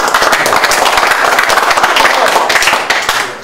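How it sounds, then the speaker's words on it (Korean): A lecture audience claps loudly and briskly at a bioscience talk by the HaHa Group chairman: dense, close clapping from many hands that holds steady for a few seconds before easing slightly at the end. "박수 치세요"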